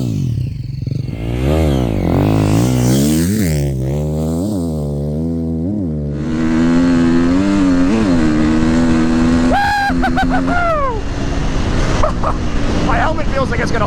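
KTM 350XCF dirt bike engine revving hard at full throttle, rising and falling in repeated pulls, then holding a high, loud whine with rapid gear-change shifts.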